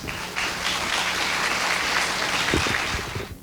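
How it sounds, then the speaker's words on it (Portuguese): Audience at a legal conference on intellectual property applauds a professor taking his seat, a continuous even wash of clapping for a few seconds before tapering off. "o recebamos com uma grande salva de palmas"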